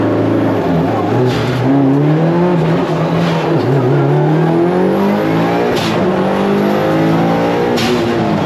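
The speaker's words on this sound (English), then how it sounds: "so you guys can hear the change in the engine tone over the next couple runs" A car engine revs hard and loud throughout an autocross run, its pitch climbing and dropping through shifts in a constant close roar, with no voices.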